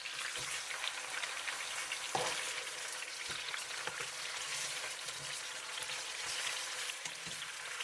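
Duck pieces sear in a pan over medium heat for Chinese duck noodles, giving a steady close hiss of fat and steam that runs unbroken for several seconds, marked by occasional soft clicks and light pops.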